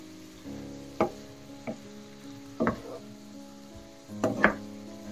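Broccoli frying with butter and garlic as its water cooks off, a low steady sizzle punctuated by a few distinct spoon scrapes and knocks against the pan.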